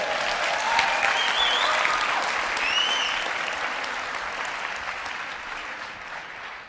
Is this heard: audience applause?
yes